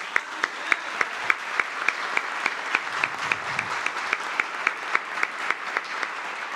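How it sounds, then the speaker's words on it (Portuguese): Applause fills a chamber during a parliamentary tribute session, a continuous wash of clapping topped by sharp, regularly spaced single claps beating out a steady rhythm. "Merece ou não merece os nossos aplausos?"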